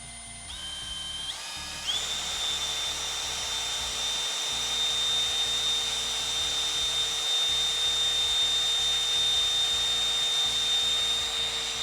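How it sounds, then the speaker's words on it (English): A power drill spins up and runs steadily with a high, sustained whine as it bores a hole for mounting an outdoor security camera, loud and close, with no talking. "first hole drilled, drill out the rest"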